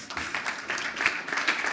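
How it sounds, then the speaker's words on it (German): An audience at an economics and monetary policy event applauds in a short burst of dense, even clapping at moderate volume. "Applaus bitte."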